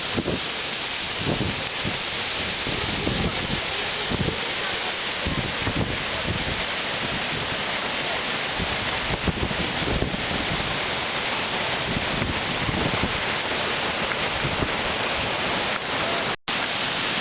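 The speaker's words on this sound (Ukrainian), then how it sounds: "Женевський водоспад. Красота, прохолода." The Zhenetskyi waterfall roars as a steady, dense rush of falling water, loud and continuous throughout, with a brief dropout near the end.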